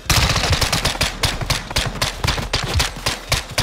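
Rapid automatic gunfire in a video game crackles in quick, loud bursts of sharp shots, dense and close, with no talk over it.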